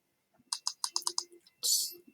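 Computer mouse clicks at a school computer, a quick run of about eight sharp clicks in steady rhythm, then a brief rustling burst, close and fairly faint with no talk.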